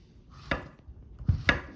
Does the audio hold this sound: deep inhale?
no